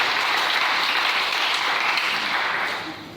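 Church congregation applauding the Lord during a French-language sermon: sustained, dense clapping from a full room, steady and loud throughout, easing slightly toward the end.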